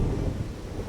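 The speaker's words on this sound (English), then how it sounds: "New York Harbor was shrouded in a thunderstorm." Thunderstorm over a harbor, with deep rumbling thunder rolling under steady heavy rain, loud and continuous for a brief moment.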